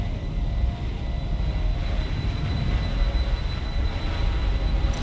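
Drone flying in the video game Watch Dogs Legion gives a steady, loud droning hum with a faint high whine, constant throughout without pauses.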